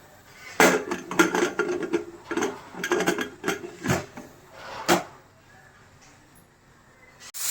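A metal pressure cooker lid is fitted and closed, a string of close clanks, scrapes and knocks of metal against metal, irregular and bunched, ending in a few separate sharp clicks before quiet.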